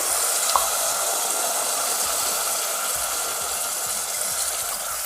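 Water pours steadily into a pot holding rice and moong dal for usili upma, a loud, continuous rushing splash close by that lasts several seconds with no talking.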